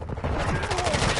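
Rapid gunfire crackles through a video game match in a dense, continuous burst lasting about a second, with no pause between shots.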